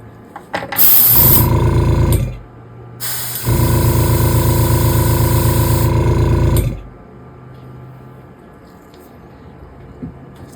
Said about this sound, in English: one more spray on that should have it